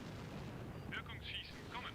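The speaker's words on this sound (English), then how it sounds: "we did drop some artillery back here" Artillery fire in Combat Mission: Shock Force 2 comes as a faint, distant rumble of impacts under a quiet radio-style voice.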